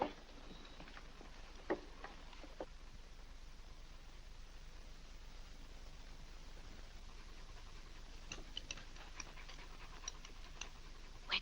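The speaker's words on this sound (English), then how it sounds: "Where did that dog come from?" A dog pants quietly and steadily in an indoor room, a soft rapid breathing under low hiss, with a few faint clicks and light knocks scattered throughout.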